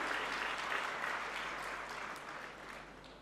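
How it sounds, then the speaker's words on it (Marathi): A lecture audience at a talk on joint family life breaks into sustained applause, a thick, even roar of many clapping hands that holds steady and then eases slightly toward the end, with no speech over it. "मनापासून टाळ्या वाजवा वाटतं तर वाजवून घ्या"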